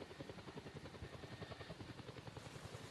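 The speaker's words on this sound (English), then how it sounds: "So there's a helicopter and 2 of them," A helicopter in a virtual-world video game gives a steady, rapid rotor thump that runs evenly throughout, with no talking.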